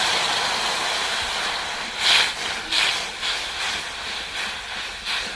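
Water is poured into hot caramelized sugar while making misti doi, giving a steady close hiss of steam with several louder surging bursts, no talk.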